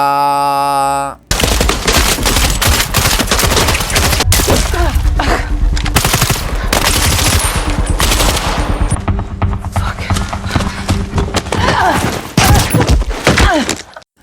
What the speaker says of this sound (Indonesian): setelah berhasil menembak Gwen, Anna tidak langsung menghabisinya